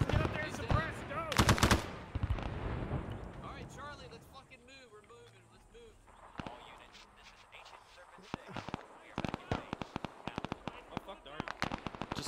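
Machine gun fire rattles through an Arma 3 battle set at LZ X-Ray in Vietnam, bursts of sharp rapid shots and scattered cracks, some near and some distant, mixed with radio-style talk and shouting.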